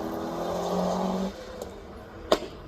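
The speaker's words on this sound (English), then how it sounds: "going to be chased up the hill by another BMW M3" BMW M3 race car on the Craigantlet hillclimb course, a steady engine drone with harmonic tones for over a second that drops away, followed by a sharp brief burst.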